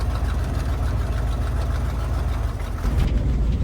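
A square body Chevy truck engine rumbles steadily from inside the cab, a low, throbbing drone with a slight pulse that holds fairly loud throughout, with no talking.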